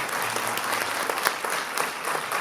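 An audience at a literary conference in Nouméa bursts into steady, dense applause, many hands clapping together at close range with a few sharper claps standing out throughout.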